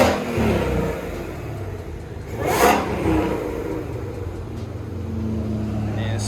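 A Shelby GT500 engine fitted with catless race pipes idles and rumbles, swelling into a short rev midway before settling into a steady low drone; people talk over it.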